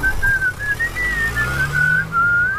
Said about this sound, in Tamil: என்னடா விசில் அடிச்சுட்டா வர?